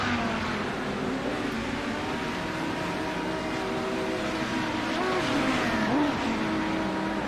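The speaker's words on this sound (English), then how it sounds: "And there we go, it's a drag race." Race cars accelerating side by side in a drag race produce a steady, loud engine drone whose pitch climbs and wavers toward the end.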